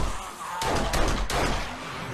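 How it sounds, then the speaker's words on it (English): Gunfire in the zombie survival game 7 Days to Die, Alpha 17, with three quick, fairly faint shots cracking over a dense, hissing in-game background. "I just need to make sure that those zombies don't hear me fire all these shots"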